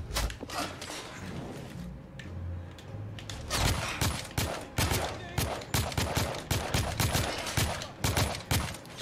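Gunfire from The Order: 1886, a dense run of sharp shots in quick bursts, loud and close, over steady game background noise with faint talk early on.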